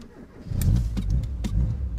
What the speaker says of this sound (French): Ensuite, je mets le contact et j'appuie sur le bouton rouge.